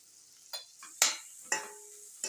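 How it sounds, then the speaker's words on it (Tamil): Tomato, onion and garam masala sautéing for butter chicken, heard as four separate stirring scrapes with brief sizzle bursts, moderately close and quiet between strokes. "கரம் மசாலா சேர்த்துட்டு நல்லா வதக்கிடுவோம்"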